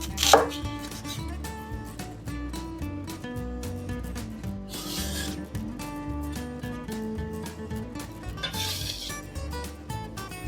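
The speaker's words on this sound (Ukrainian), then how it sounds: "Цибульку нарізаємо півкільцями." Onion sliced with a knife into thin half rings, a rapid even run of close chopping taps over background music.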